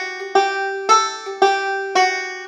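A banjo plays the measure-3 phrase of Temperance Reel in four even, sharply plucked strums with clear ringing overtones, close and alone.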